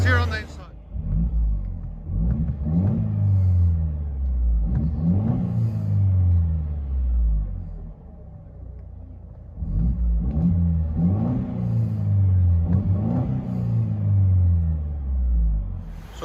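Exhaust of a 2015 Mercedes C250 turbo with resonator and muffler delete, heard from inside the cabin as a series of deep revs rising and falling repeatedly, a muffled rumble between pulls.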